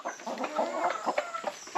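A rooster clucks and calls in short, repeated bursts, fairly close and clear against a quiet background.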